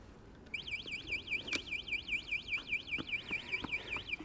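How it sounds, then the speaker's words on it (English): The anti-theft alarm on a DYU A5 folding e-bike bursts on after a brief quiet moment, a loud rapid warbling electronic siren that keeps cycling steadily, with faint knocks and handling noises beneath it. "He has been thwarted by the alarm, or at least it would let you know."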